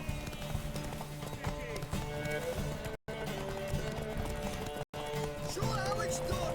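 Horse hooves clip-clopping at a run in The Witcher 3: Wild Hunt, a steady drumming gait under game music and voices, with a brief whinny.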